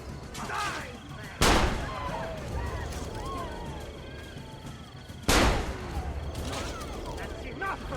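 Gunfire in the Assassin's Creed Brotherhood video game, two loud sharp shots a few seconds apart over steady game ambience and voices.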